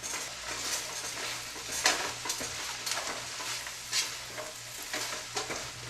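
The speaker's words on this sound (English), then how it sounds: "we are going to just cook this until the vegetables are nice and softened." Leek, apple, carrot and celery cooking in a pan give a continuous close sizzle, broken by regular stirring scrapes and occasional metallic clinks of a utensil on the pan.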